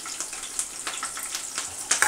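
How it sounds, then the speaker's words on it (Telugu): Green chillies frying in hot oil in a pan for a garlic prawn dish, a steady soft crackling sizzle with brief sharper pops scattered through, close and moderately quiet, with no talking. "పచ్చిమిర్చి వేగిని"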